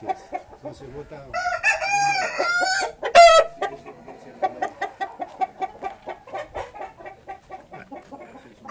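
Fighting roosters crow loudly nearby, two long drawn-out calls back to back, followed by steady clucking and chatter from fowl.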